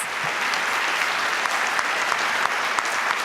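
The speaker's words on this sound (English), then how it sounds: "Let's have a round of applause" Audience applause at a high school district Student of the Month recognition ceremony, a steady dense wash of clapping hands that stays even and fairly loud for its whole length.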